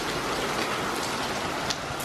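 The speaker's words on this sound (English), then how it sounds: "Look at the rain." Heavy rain pouring down outdoors during a thunderstorm with hail, a dense, loud, unbroken hiss of drops on surfaces throughout.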